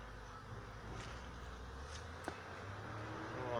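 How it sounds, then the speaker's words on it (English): Honey bees buzz around an active beehive carrying pollen, a soft continuous drone with a few individual bees passing closer and louder, all over steady outdoor background noise. "Plenty of bees going on it off"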